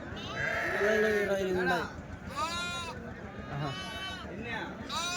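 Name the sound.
sheep bleating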